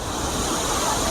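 Clear stream water rushes steadily over stones near a waterfall in the Munnar hills, a dense continuous wash of flowing water with no voices.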